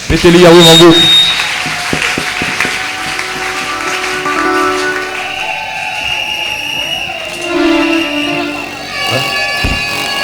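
A church congregation applauds and cheers during a service, a short loud burst of clapping near the start, then lighter scattered claps under a voice speaking over a sustained musical tone.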